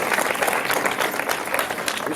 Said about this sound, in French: On applaudit pour le secteur.